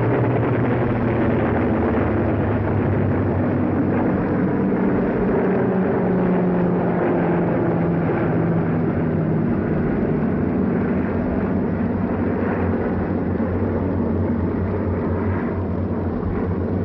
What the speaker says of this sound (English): American transport planes loaded with supplies follow us as we advance.